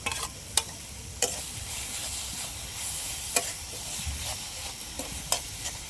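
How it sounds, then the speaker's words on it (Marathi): Salted raw mango mixture fries in hot oil with a steady close sizzle, while a spoon scrapes and stirs through it in occasional sharp clinks against the pan. "हे तेलात टाकून घेऊ आणि मस्त फिरून घेऊ."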